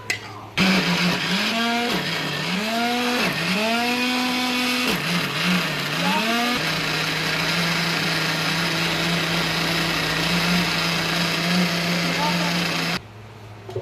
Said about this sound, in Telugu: ఇలా మెత్తగా అయ్యే వరకు మిక్సీ పట్టుకోవాలి.